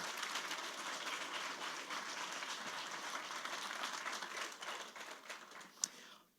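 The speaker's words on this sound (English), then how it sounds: "Let's give all of those organizations and that team a round of applause." A pitch-competition audience applauds in a steady, moderately distant patter that tapers off at the end.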